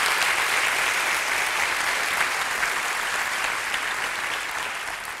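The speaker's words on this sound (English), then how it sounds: "So a big applause, please, for all of the folks that made it possible for me to be here today." An audience at a college talk applauds steadily for about five seconds, a dense, even wash of clapping that tapers slightly toward the end, with no voices over it.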